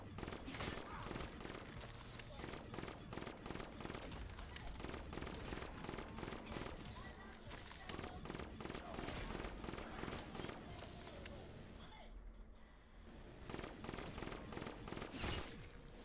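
The Death Machine minigun roars in a Call of Duty zombies round on Der Eisendrache, firing in sustained rapid bursts with brief pauses, loud and close amid other game noise.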